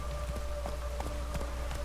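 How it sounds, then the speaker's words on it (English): Rain falls in The Witcher 3 Wild Hunt video game as a steady patter of drops on surfaces, with scattered louder taps over a low ambient hum and faint tonal game background. "Looks like rain."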